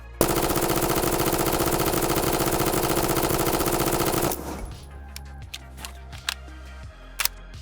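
Continuous looping full-auto fire from an MP7A1 submachine gun in a video game, a loud dense rattle held for about four seconds before cutting off, followed by a few faint mechanical clicks.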